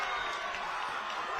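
Steady roar of a high school football crowd in the stands at a PIAA District 2 Class 3A final, Scranton Prep at Berwick, rising after a Bulldogs defensive stop, broad and continuous without distinct claps.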